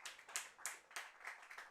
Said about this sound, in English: Sammy Finn getting a well-deserved round of applause from everyone here at Morelli